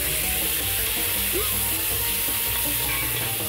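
Meat sizzles hard in a very hot pan while the Ouzi is made, a steady broadband fry that runs without a break and with no voices over it.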